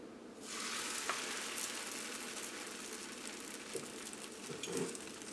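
Kerala parotta laid onto a well-heated pan bursts into a loud, steady sizzle after a brief quiet start, the frying hiss holding evenly with a few soft bumps and crackles throughout.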